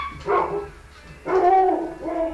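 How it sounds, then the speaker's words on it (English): Dogs barking in two or three short bursts, fairly close and clear, with no talking over them. "Dogs."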